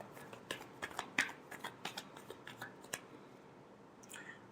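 Tarot cards being shuffled by hand, soft quick riffling snaps in a steady rhythm of roughly a dozen close, quiet strokes, followed by a brief pause.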